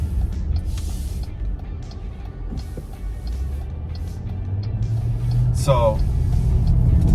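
A 2024 Jeep Grand Cherokee L Summit with a V8 is being driven, giving a steady low engine and road rumble throughout as a person talks over it.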